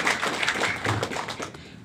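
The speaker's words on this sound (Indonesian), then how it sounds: "Tepuk tangan dulu buat Antares." Audience clapping at an Antares investment event in Bogor Valley, a short burst of scattered hand claps fading out within two seconds, with no one speaking.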